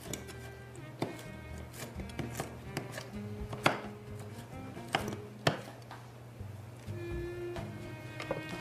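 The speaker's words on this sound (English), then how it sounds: "And we're just going to take these and just chop them slightly." Soaked walnuts chopped with a knife on a board, a series of sharp irregular thuds and cracks spaced through the clip against a quiet background.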